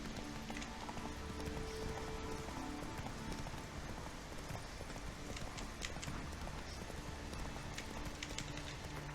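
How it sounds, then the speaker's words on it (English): In The Witcher 3, a horse gallops continuously at a fast, even pace, its hoofbeats rolling throughout over a dense, steady bed of in-game ambience. "Run, Roach."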